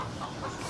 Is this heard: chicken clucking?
yes